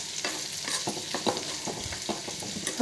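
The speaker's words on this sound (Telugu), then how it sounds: "దీంట్లోకి ఇప్పుడు మునక్కాయలు ముక్కలు వేసేసుకుందామండి. ఇలా ఫ్రై చేసుకుందాం." Drumstick (moringa) pieces frying in a pan with browned onions, a bright crackling sizzle with scraping stirs at irregular intervals, close and alone with no talking.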